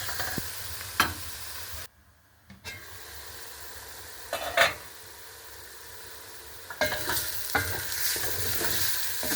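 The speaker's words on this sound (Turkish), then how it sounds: "soğanlarımız kavruluyor. Ama şöyle biraz daha kavrulması gerek." Onions fry and sizzle in a pan with a steady hiss, broken by several sharp stirring scrapes and clatters; a brief near-silent gap comes early, then the sizzle returns stronger toward the end.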